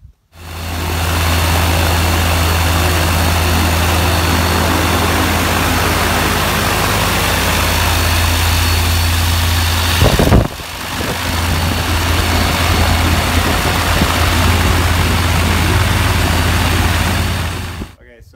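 A turbocharged, fuel-injected Rotax gyrocopter engine runs on a test stand, droning loud and close with a deep steady hum that dips briefly partway through before resuming and cutting off near the end.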